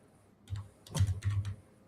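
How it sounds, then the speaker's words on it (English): Keys clatter on a computer keyboard, heard faintly in the background during an online live call: a brief single tap, then a quick burst of several keystrokes. "I hear some typing, so she must be able to do a little something over there."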